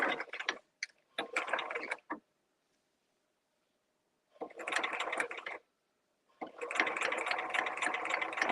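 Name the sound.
sewing machine stitching down the center of a seam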